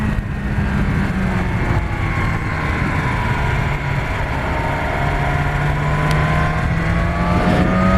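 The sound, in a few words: BMW S1000R motorcycle accelerating to overtake a Toyota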